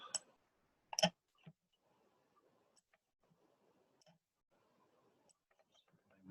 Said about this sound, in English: My mouse is making that funny noise.